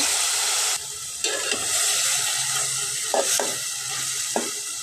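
Fried fish pieces dropped into a pan of sizzling spice masala for a coconut fish curry, giving a loud, steady frying sizzle with a few sharp clatters and stirring knocks. No one speaks.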